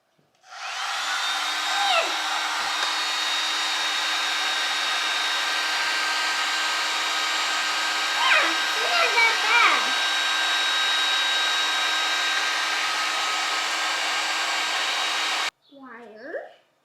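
A heat gun blows hot air in a steady, loud, hair-dryer-like whoosh with a constant hum, running for about fifteen seconds before cutting off abruptly; a voice speaks briefly over it and again right after.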